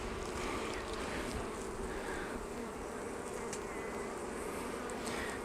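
Honey bees swarm over a dripping, honey-filled hive frame, a dense continuous buzz heard close and steady throughout, with no talk.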